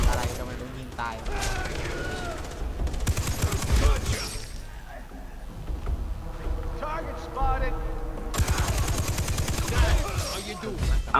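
Sustained bursts of gunfire from soldiers in the Far Cry 3 video game, dense rapid volleys rattling almost continuously, mixed with voices and other game sounds.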